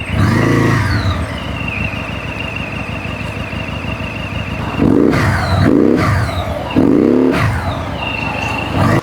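A Benda automatic motorcycle engine runs close by, a steady idle rumble that rises in several short revs, with no talking.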